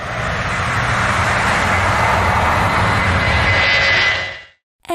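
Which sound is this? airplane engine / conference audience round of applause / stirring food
airplane engine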